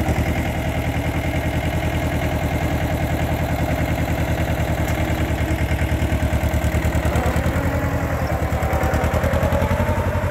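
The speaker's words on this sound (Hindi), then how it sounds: "ये देखियो भाइयों महिंद्रा जीवो 245 Ti टीलर पर चलता हुआ" A Mahindra Jivo 245 Ti tractor runs with a tiller attached, its engine a steady, loud, close chugging drone with constant rhythmic clatter throughout.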